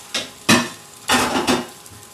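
A metal strainer set down in a kitchen sink, a few sharp clanks and rattles in quick succession with brief pauses between, close and fairly loud.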